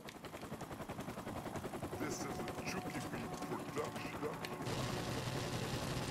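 Helicopter and gunfire in a Call of Duty match: steady rotor chopping throughout with rapid bursts of automatic fire layered on top, while a player talks over the action.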